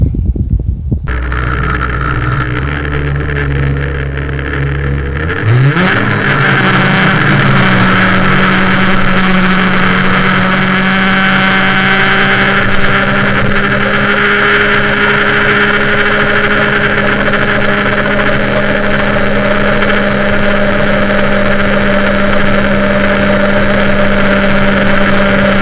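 An MBK 51 moped fitted with an MVT performance exhaust, its small two-stroke engine rising in pitch as it revs up, then holding a loud, steady high-revving drone close to the microphone with no talk.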